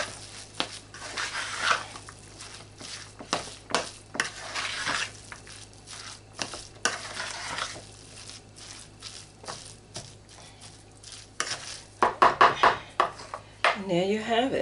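Spoon stirring flour into a thick salmon croquette mixture in a bowl, a steady scraping and clinking of utensil against dish repeating through the clip, close and fairly quiet, with a few sharper knocks near the end.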